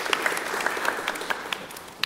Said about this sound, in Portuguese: Podem aplaudir, né?